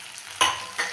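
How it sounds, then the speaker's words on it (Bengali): Potatoes and tomatoes frying in a pan with dry ground spices (coriander, chilli, turmeric, chaat masala) for a dry potato curry, a soft sizzle broken by two sharp stirring scrapes. "শুকনো মশলা দিয়ে খানিকক্ষণ ভেজে নিলাম, কোনো জলের ব্যবহার করিনি।"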